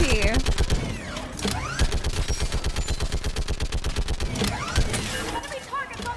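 Rapid automatic gunfire from the video game Mass Effect 3 rattles in fast sustained bursts, loud and close, with sci-fi weapon and mechanical effects sweeping through the mix.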